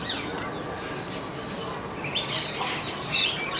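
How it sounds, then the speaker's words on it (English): Crested wood partridges calling among other birds, thin high chirps and whistles scattered over a steady busy background of ambient noise. "Crested wood partridge."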